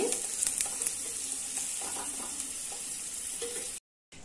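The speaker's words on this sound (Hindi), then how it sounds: "तो फिर इसको ऐसे आप सेलो फ्राई कर लेंगे।" Potatoes shallow-fry in oil in a kadhai, giving a steady close sizzle with small crackles and pops throughout, then a brief cut to silence before the sizzling resumes.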